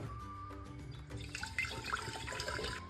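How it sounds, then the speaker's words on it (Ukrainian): Strongly carbonated mineral water is poured into a jar, giving a fizzing, splashing liquid sound that builds and grows busier toward the end. "Окремо в банку наливаємо мінеральну сильно газовану воду."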